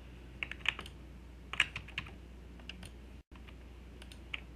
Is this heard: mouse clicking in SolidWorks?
yes